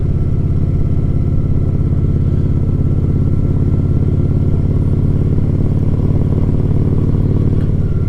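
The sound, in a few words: Shadow motorcycle engine running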